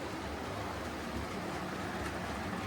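Model railway trains running on a layout, with a steady low rumble of passing trains that continues evenly throughout, with no talking.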